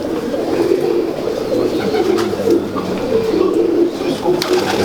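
Pigeons coo softly and repeatedly close by in a loft, a steady low murmuring that carries through the whole stretch, with faint voices in the background.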